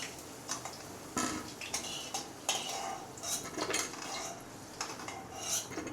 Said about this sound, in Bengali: আলুটা ভাজা হয়ে গেছে, এবার তুলে নিচ্ছি